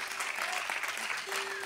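Audience at a live festival show breaks into spontaneous applause, a dense steady patter of many hands clapping at once, filling the short moment with no voices standing out.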